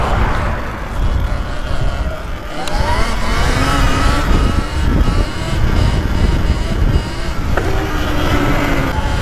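A Talaria Sting R electric dirt bike ridden in sport mode, with loud wind rush and road noise close to the microphone and a faint rising motor whine across a continuous run.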